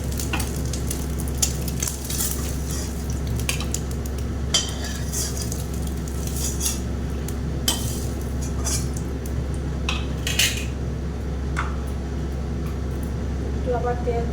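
Dried fish frying in oil in a pan, sizzling steadily while being stirred, with scattered clinks and scrapes of a utensil against the pan.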